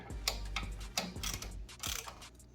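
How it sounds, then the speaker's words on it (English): A 15mm wrench turns a bolt on an Ohlins TTX shock of a Ducati Panigale V4, giving a quick run of close, sharp metallic ratchet-like clicks and ticks in uneven bursts. "You need to get this 15mm wrench on the back side just like before"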